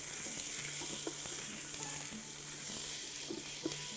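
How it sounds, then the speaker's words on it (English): Chorizo sausage and new potatoes sizzle steadily in a hot frying pan while being stirred, a constant bright hiss with occasional soft scrapes and pops, close up and with no talking. "Give it a stir."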